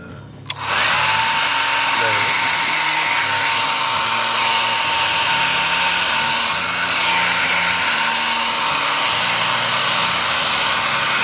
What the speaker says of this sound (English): So what you need is a hairdryer.